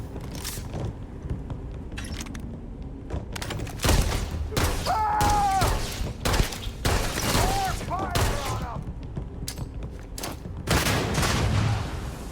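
Video game gunfire in Starfield, a steady volley of shots and impacts with loud bursts around the middle and near the end, with shouted voices breaking through the shooting.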